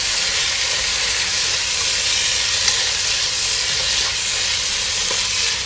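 Coriander and mint leaves fry in a pot with a loud, continuous sizzle and steady hiss, with faint stirring scrapes underneath and no talking.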